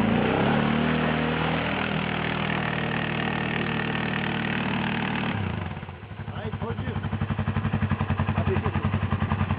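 A quad bike engine runs near the sea, first a steady loud drone, then dropping to a lumpy, pulsing idle that throbs close by.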